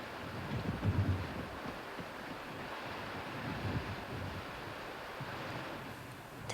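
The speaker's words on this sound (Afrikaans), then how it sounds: "Dis 'n verskriklike storm." Wind and surf from a terrible storm, a continuous roaring rush of waves and gusting wind at steady loudness, with a slightly heavier surge near the start and no voices.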